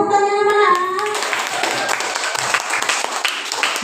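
A classroom of students breaks into lively applause after a brief voice, the clapping dense and close, continuing steadily with small children's voices mixed in.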